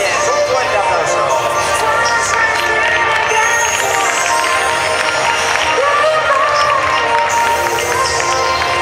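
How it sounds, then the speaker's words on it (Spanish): A loud crowd applauds and cheers at a cosplay catwalk show during a manga convention in Valencia, with dense continuous clapping and shouting throughout. "Un fuerte aplauso"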